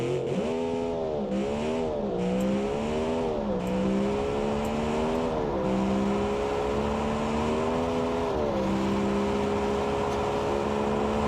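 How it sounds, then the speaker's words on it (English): In the car-building game Automation, a simulated car engine revs continuously, its tone climbing and dipping in repeated swells with a buzzy, racing-style whine and no voices. "Why does the engine kind of sound like Lightning McQueen from the first movie?"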